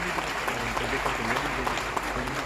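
An audience claps steadily and densely throughout as teachers are honoured at a Teachers' Day ceremony led by CM Yogi. The applause is dense and continuous, heard from within the hall.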